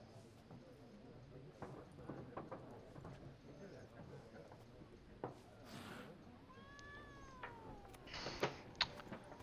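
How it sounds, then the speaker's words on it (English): A cat meows in The Witcher 3, a few short mewing calls over quiet ambient noise with faint clopping and background murmur, the clearest rising cries coming near the end. "There's a cat."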